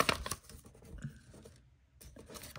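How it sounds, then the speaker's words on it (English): Paper crumpled by hand while unboxing a Crash Team Rumble McDonald's toy: close, crisp crinkling bursts, a short pause, then more rustling and crackling. "gotta crumple it up"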